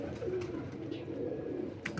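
Pigeons coo close by in a soft, low, throaty burble, a couple of rolling calls under faint background noise.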